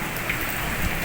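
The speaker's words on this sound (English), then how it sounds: "First time it's raining in Dubai." Steady rain falling in Dubai during an unusual downpour, a dense even hiss of drops filling the whole short stretch with no other sound standing out.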